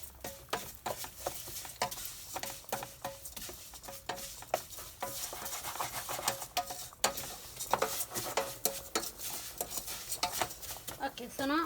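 Vermicelli noodles stirred in a pan for rice, with scraping and light clinks of a utensil over a soft sizzle, steady and close; no talk.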